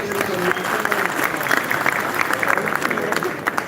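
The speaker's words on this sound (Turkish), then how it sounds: "Bir alkış bir maşallah alalım" Crowd at a festival auction in Adapazarı breaks into lively applause after a sale, dense clapping throughout with voices and a tonal sound running underneath.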